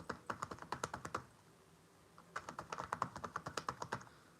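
Tarot cards being shuffled, a quick run of crisp riffling taps in two bursts separated by a short pause, close and moderately loud with no talking.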